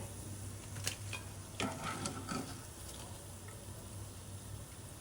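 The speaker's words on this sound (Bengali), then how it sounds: "আর 4 থেকে 5 মিনিট আমি এটাকে ক্রিস্পি করে মিডিয়াম টু লো হিটে ভেজে নেব" Laitta (Bombay duck) fish fries crisp in oil over medium-low heat, giving a soft, quiet sizzle with a few sharper crackles and pops early on.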